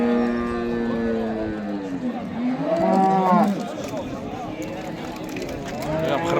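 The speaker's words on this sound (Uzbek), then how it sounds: "Qirg'iz sigir yirik ekan." Cattle at a cow market in Namangan, Uzbekistan, including a large Kyrgyz cow, let out several drawn-out moos, loud and close, while people talk nearby.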